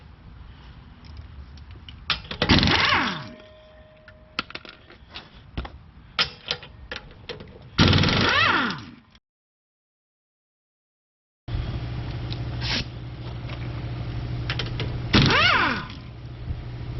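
Wheel removal on a 2013 fifth-generation Chevrolet Camaro: a few loud bursts of a power tool spinning off lug nuts, separated by clicks, clunks and handling noises, close up, with one stretch of silence midway.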